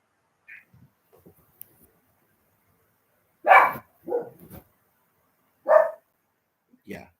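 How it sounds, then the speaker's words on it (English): A dog barks somewhere outside, a few separate muffled barks spaced out over several seconds in an otherwise quiet room. "It's just barking noise outside."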